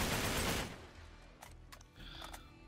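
Gunfire in the video game Uncharted 3, a loud burst of noisy shooting that fades out, followed by a few scattered sharper cracks and mechanical clatter within the game's background sound.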